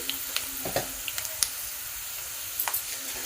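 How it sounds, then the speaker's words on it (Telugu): Mustard seeds and cumin dropped into hot oil in a pan with browned lentils, crackling in a steady sizzle with scattered sharp pops and spits, close and alone without talk. "ఇప్పుడు ఇందులోకి ఒక 2 స్పూన్లు ఆవాలు జీలకర్ర వేసేసుకుందాం"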